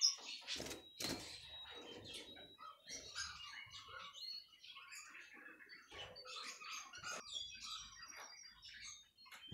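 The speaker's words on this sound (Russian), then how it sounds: "Перед нами щегол." A caged goldfinch chirps in quick, bright twittering bursts and trills, close and fairly faint, with short pauses between phrases and no talking.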